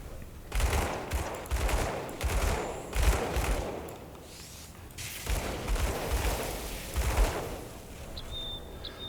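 Rapid gunfire from shooting hordes of monsters in the action RPG Grim Dawn: Ashes of Malabor, with repeated loud bursts of shots in rhythmic volleys and brief gaps between them.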